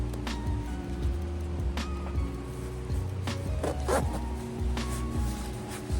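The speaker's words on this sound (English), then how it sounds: "And it zips up really smoothly" A backpacking sleeping bag zipper being drawn closed, producing close, smooth rasping strokes over a low steady background, with a few sharper clicks of the pull along the track.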